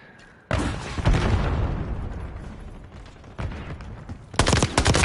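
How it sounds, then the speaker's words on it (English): In a video game, a grenade goes off with a sudden loud blast that decays into rumbling. Another burst follows, then a harsh clatter of rapid gunfire-like explosions near the end, with no talk over it. "Grenade incoming."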